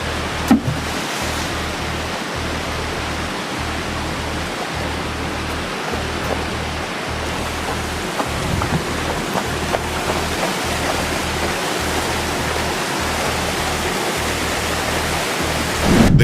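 A rushing river runs beside a creek in a spring forest, a steady, loud, full roar of flowing water that continues unbroken with no voices.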